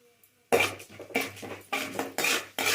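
A spoon scrapes and clatters in a pan while urad dal and chopped okra are stirred, giving repeated rhythmic metallic scrapes and clinks, close and fairly loud, with no talking.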